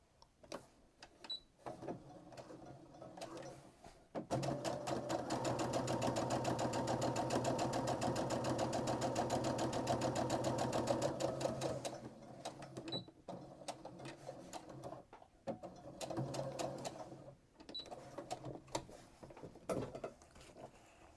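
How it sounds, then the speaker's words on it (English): A sewing machine stitches the side seam of a sleeve, running steadily for about seven seconds at close range between quieter handling noises, with no talking. "We have to sew the arm, the side of the sleeve."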